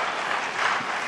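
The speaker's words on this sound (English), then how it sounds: "Can we please hold the applause?" Sustained applause from a presidential debate audience fills the stretch, a dense, steady wash of clapping at full strength with no talk over it.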